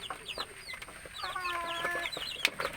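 Broody village hens that recently hatched a clutch of eggs cluck in a steady run of short calls, with higher, drawn-out chirps mixed in and a sharper squawk near the end, close by and with no talking.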